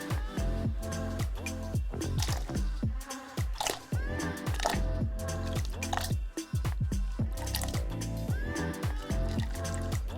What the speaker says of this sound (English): now I'm going to just dip the hair into the hot water